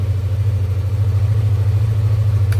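A Yamaha Aerox scooter engine idles steadily up close, a low, even, pulsing hum with no revving, after repairs to its headlight, park light and tail light wiring.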